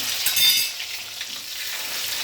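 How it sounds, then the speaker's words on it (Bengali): Raisins dropped into hot oil with cardamom for a rice dish, a brief bright crackling sizzle that flares at first and then settles into a steady soft frying hiss. "তারপর এই যে কিশমিশ তেলে দিয়ে দিলাম, কিশমিশ।"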